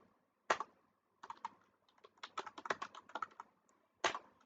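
Computer keyboard typing code, quick irregular keystroke clicks close up in short bursts, with a couple of louder taps like the space or enter key, no talk.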